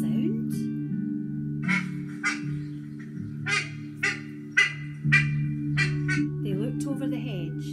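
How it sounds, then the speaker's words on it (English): Ducks on a country pond give a series of separate quacks and honks, clear and close over a steady low hum, roughly a dozen calls spread unevenly. "And in the pond there were ducks and ducklings all splashing about."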